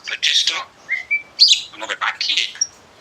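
A pet talking myna close by gives a quick run of chirps, whistles and chattering notes, loud and busy with brief pauses between bursts.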